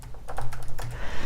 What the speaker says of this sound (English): So this is just a normal keyboard, so I can type, this is the keyboard